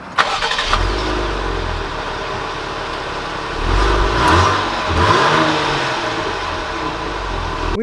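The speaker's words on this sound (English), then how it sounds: "let's take this Trailhawk out to see how it drives." A 2020 Jeep Grand Cherokee Trailhawk with a 3.6-liter V6 starts off under a steady, close engine hum, rising in two brief surges of acceleration before settling into an even drone.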